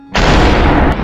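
One loud, booming slow-motion gunshot fired as a headshot in the video game Superhot, hitting abruptly and then holding as a dense, sustained roar for about a second.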